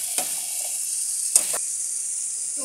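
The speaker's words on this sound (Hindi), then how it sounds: "टमाटो भी ऐड कर देंगे, इसको कम से कम 3 मिनट तक भूनेंगे।" Tomatoes frying with masala for chicken kofta gravy give a constant high, bright sizzle, with two short bursts of stirring and a louder scrape partway through.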